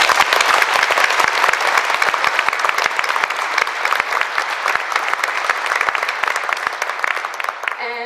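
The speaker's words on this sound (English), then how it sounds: "You can now applaud." Audience applause at a POW/MIA ceremony: steady, dense clapping from a sizable crowd, held at an even level for about eight seconds before starting to fade.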